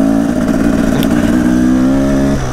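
A Husaberg TE 300 two-stroke dirt bike runs at high revs close by, its harsh buzzing engine note holding steady and loud throughout, easing slightly near the end.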